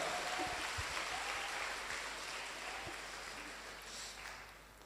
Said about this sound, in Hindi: आपके ग्रेट अपलाइन, उनके लिए एक जोरदार ताली बजाइए